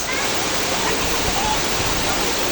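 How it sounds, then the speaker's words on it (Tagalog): Tumalog Falls waterfall at Oslob, Cebu, a tourist spot, gives a constant, dense broadband rush of falling water, loud and close, with no break. "one of the famous tourist spot here in Cebu. Tumalog Falls."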